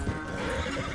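A horse in the video game Red Dead Redemption 2 gallops and neighs in a brief, close burst of hoofbeats mixed with a whinny.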